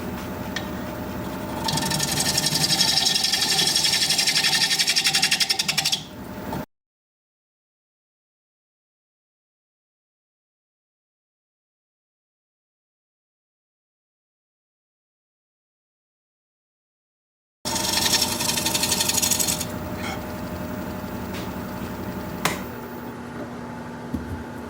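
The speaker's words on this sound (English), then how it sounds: "I need to sharpen again." Wood turning tool being sharpened for work on a natural edge alder bowl, a steady abrasive grinding rasp in two long stretches broken by a silent gap, fairly loud and close with no talk.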